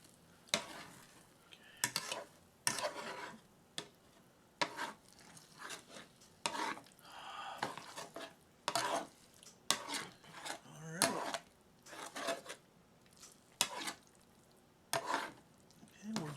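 Scrambled eggs stirred in a frying pan, with irregular scraping strokes of a utensil against the pan over a soft sizzle, close and moderately loud, no talk.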